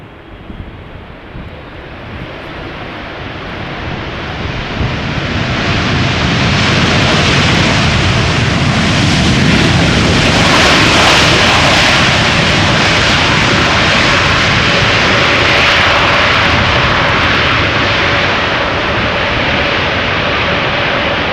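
An airliner lands at Schiphol Airport, its engine roar building steadily from moderate to loud and broad, then holding a sustained close rushing drone with wind buffeting the microphone throughout.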